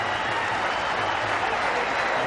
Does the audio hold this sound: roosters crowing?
no